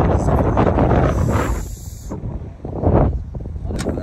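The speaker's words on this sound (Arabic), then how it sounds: "وزي ما انتم شايفين الجو هوا حرفيا" Strong outdoor wind buffets the microphone in loud, rumbling gusts that rise and fall, nearly drowning out a brief stretch of quieter air before roaring back.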